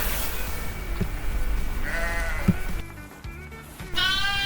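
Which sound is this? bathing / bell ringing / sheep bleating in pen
sheep bleating in pen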